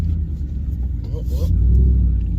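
A supercharged four-door Ram truck revs its blower engine close by, a loud steady rumble building slightly toward the end, with a voice speaking briefly over it.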